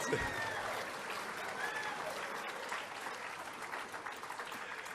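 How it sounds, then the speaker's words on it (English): A round of applause fills a hall at a sports awards ceremony, steady dense crowd clapping that holds at an even level throughout. "Give him a round of applause."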